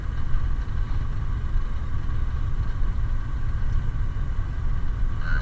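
A truck engine drones under load while the driver float shifts gears, a steady low rumble with a faint whine riding above it, continuous and close throughout.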